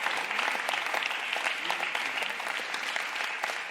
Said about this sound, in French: On peut l'applaudir, vous avez raison.